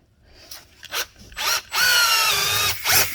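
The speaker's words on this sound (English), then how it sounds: "I have a rasp on a drill" A power drill fitted with a rasp bit reams a small hole in a car tire, whirring in short bursts and then one longer sustained run, loud and close-up.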